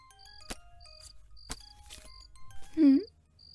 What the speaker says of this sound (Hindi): 2 घंटी बज रही है।